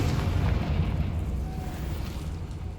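Confringo spell explosion in Hogwarts Legacy, a dense, sustained booming rumble that stays loud and steady throughout, with no voices.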